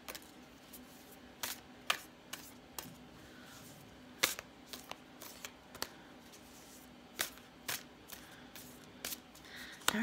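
A deck of cards being shuffled and cut by hand, giving a series of short, sharp riffling snaps at uneven intervals over a quiet background.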